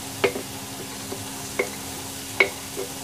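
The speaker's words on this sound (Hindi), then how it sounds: "बस मीडियम फ्लेम पर ही हम इसे अच्छे से भूनेंगे प्याज को" Finely chopped onions frying in a pan over a medium flame for kachori, with a soft steady sizzle under a few sharp clicks of stirring or scraping, close and with no speech.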